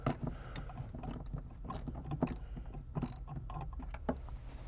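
A nut being tightened with a ratchet on an electronic gas pedal being installed in a Ford Foxbody Mustang, steady clicking and metallic clatter throughout, close and moderately loud with no talk.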